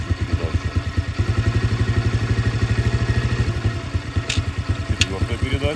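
A G-Moto Cross X pro motorcycle engine pulses steadily and up close as the bike accelerates and shifts gears, with someone speaking over the engine throughout.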